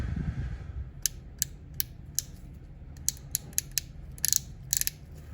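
The taper lever on a cordless hair clipper clicks, a series of small crisp ratcheting clicks, sparse at first and then bunched toward the end, close and quiet with no talking.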